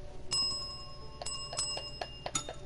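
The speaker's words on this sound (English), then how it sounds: "I can ring the bell as many times as I fucking want." A bell rung again and again in the video game Erica: about eight bright, ringing strikes at an uneven pace, some close together, quiet and fairly close, with no talking.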